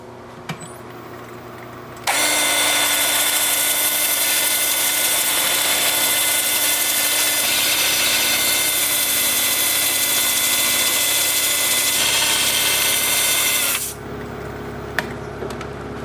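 Sandpaper starting at 80 grit rubs against a spinning piece of Japanese quilted maple on a wood lathe, a loud steady hiss with the motor hum underneath that runs for about twelve seconds and then stops.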